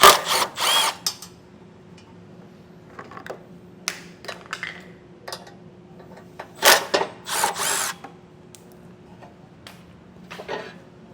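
A power tool whirs in short bursts removing 10mm bumper beam bolts on a 2013 Fiat 500, with brief ratcheting spins and pauses between them, close and clear over a faint steady hum.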